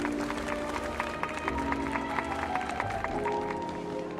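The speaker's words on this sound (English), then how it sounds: "We invite you to express your warmest applause and deepest appreciation for OT Alfalfa, head of the Alfalfa family," Steady crowd applause in the video game scene Farewell, Penacony, a dense wash of many hands clapping at a distance, mixed with background music.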